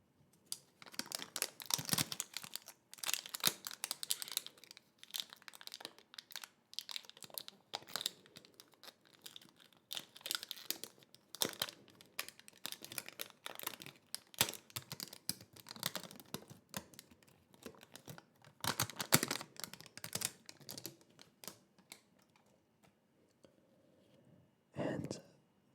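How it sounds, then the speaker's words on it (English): Hard plastic wrapping crinkled close up in a quiet room: dense, irregular crackling and crunching bursts continue throughout, soft overall with sharper louder crackles now and then. "And that is the sound of hard plastic wrapping."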